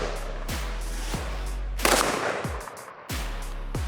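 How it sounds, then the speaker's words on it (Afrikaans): An LM5 semi-automatic rifle fires a few sharp, loud shots spaced apart, each with a quick decay, in an outdoor shooting contest. "Tweede skoot."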